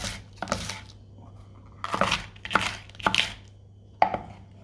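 A knife chops fresh greens into thin strips on a board during Kilis tava preparation, in four or five separated bursts of quick crisp cuts, close and fairly loud, with no talk.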